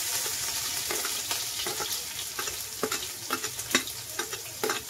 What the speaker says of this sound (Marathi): तेल घेतलं आपण 2 चमचे. हे टाकूया कांदा लसूण.